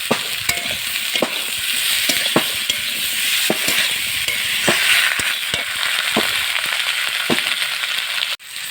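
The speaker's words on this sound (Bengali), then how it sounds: "দিয়ে আমি ভালো করে কষিয়ে নেব এবারে এর মধ্যে আমি দেব আদা বাটা আর রসুন বাটা" Ginger and garlic paste fries with a brinjal masala in a village kitchen, a loud continuous sizzle punctuated by regular scraping strokes of a spatula against the pan, no talking.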